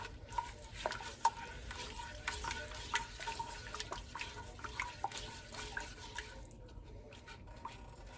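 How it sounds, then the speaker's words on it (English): Butter melting in a pan while a spoon stirs it, making faint, soft scraping strokes in a regular rhythm over a low, gentle sizzle. "And we're going to give that a stir and get that all incorporated."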